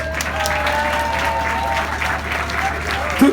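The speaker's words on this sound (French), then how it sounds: "Je vous demande de les applaudir pour ça" Concert audience at an ice rink breaking into steady, dense applause that holds evenly throughout, close and loud with no pauses.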